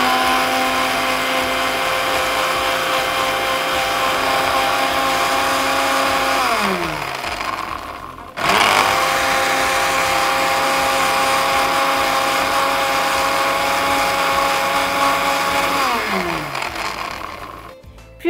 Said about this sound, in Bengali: আমি ব্লেন্ডারটা অন করছি।